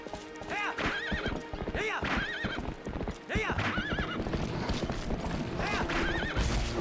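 Horses neigh again and again over a steady clatter of hooves in The Legend of Zelda: Twilight Princess, the whinnies loud and close in a busy, continuous mix.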